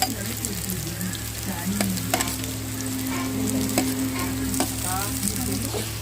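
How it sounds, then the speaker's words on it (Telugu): Mustard and other tempering seeds with onions fry in hot oil for egg curry, a steady close sizzle running the whole time with scattered pops and spoon scrapes. No one talks. "ఇప్పుడైతే అవి తాళం గింజలు ఫ్రై అవుతున్నప్పుడే ఇంకా ఆనియన్స్ వేసుకోవాలి"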